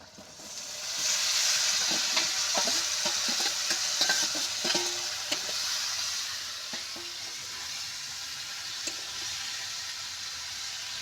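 Vegetables and onions fry with spices in a hot pan, a steady loud sizzle with scattered stirring clicks and scrapes throughout, no voices.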